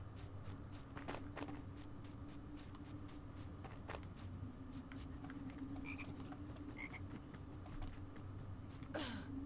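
A frog croaks in the Harry Potter and the Philosopher's Stone video game, a few short croaks heard alone over a steady ambient game background with soft footsteps.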